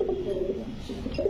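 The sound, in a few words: pigeon cooing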